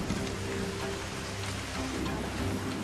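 Steady rain hisses continuously, fairly close, with a low rumbling hum underneath.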